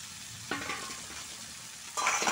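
Pre-fried potatoes are added to a simmering chicken curry in a pan. A short sizzle bursts up twice, briefly and close by, with no speech.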